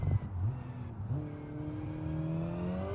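A manual car in the Automation driving game shifts up on its own, its engine tone dropping and then climbing steadily again under a smooth, continuous drone with no talk.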